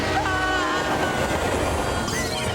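Steam train from a Harry Potter film trailer rumbles past loudly and steadily, with wheel clatter and metallic squeal layered over the dense roar and a whistle-like tone near the end.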